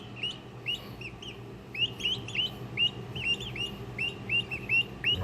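Baby Orlopp Bronze turkey poults chirp in quick, high, repeated peeps, close and fairly clear, in a steady run of calls over a low background hum.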